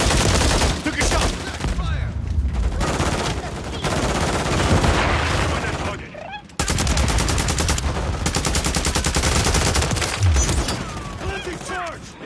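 Gunfire in a shooter video game comes in rapid, loud, close bursts and fusillades, with short pauses between volleys and faint voices now and then.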